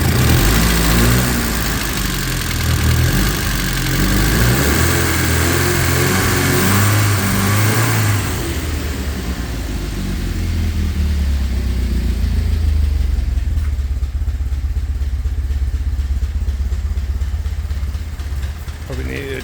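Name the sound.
Alfa Romeo stepnose car engine idling, tappety and rattly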